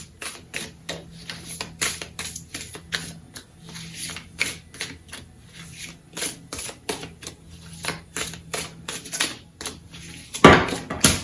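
Tarot cards are shuffled and handled up close in a quiet room. Rapid, sharp riffling and flicking sounds repeat in fast rhythmic bursts, with no talking.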